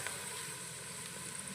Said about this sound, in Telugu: కొంచెం బంగారం కలర్ వచ్చేదాకా వేయించుకోవాలా